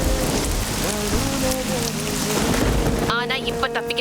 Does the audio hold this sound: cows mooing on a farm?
no